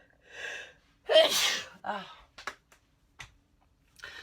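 A sharp intake of breath builds into one loud, close sneeze, followed by a sniff and a few faint clicks.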